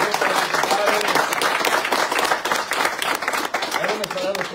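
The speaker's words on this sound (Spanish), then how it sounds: "¡Aplausos para los padres!" Applause for parents at a live event at Rancho La Mora in Chihuahua, a dense run of clapping that holds fairly steady for several seconds, with voices mixed faintly into the crowd noise.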